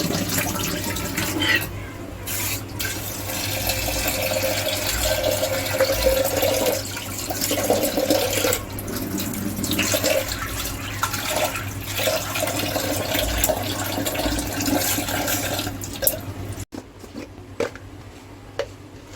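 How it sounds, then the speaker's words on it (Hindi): Soaked chickpeas washed under a running kitchen tap, a steady splashing stream of water with sloshing and rinsing, broken briefly near the end. "तो सबसे पहले आपको चने को अच्छी तरह से धो लेना है"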